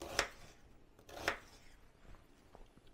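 A knife chopping vegetables for lentil soup on a board: two crisp, close chops about a second apart, then a few fainter taps, quiet and otherwise still.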